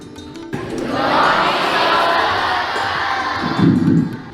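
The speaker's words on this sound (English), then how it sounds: "Give a big round of applause for Team Annual Panel Inspection 2025" A gathered crowd at a school inspection function welcomes the annual panel inspection team, a loud, sustained wash of clapping and cheering lasting several seconds with a brief swell near the end.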